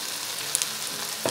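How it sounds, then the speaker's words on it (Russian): Tomato and bell pepper frying for lagman sizzle in a pan with a steady hiss and a couple of brief clinks or stirring scrapes, heard briefly and without talk. "И продолжаю обжаривать 10 минут."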